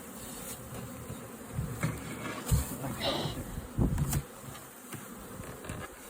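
A caught honeybee swarm buzzing around a beehive after smoke has been used, a continuous insect hum with individual bees passing close by in louder bursts, and faint talk in the background.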